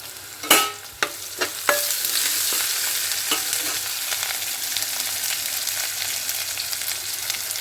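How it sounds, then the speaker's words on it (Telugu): Cumin and fenugreek powder sizzle in a hot oil tempering, opening with a few sharp clinks and a burst of crackling, then settling into a steady, close frying hiss. "మీరు ఇప్పుడైతే పోపులో కొంచెం జీలకర్ర మెంతుల పౌడర్ వేస్తున్నాండి"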